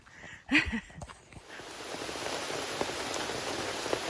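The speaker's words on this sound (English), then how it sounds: "I'm just standing here for a bit to see if this rain will let up." Rain drums on an umbrella held by a hiker paused on a trail in the Virginia mountains, a close, dense, steady patter that settles in after a brief rustle at the start.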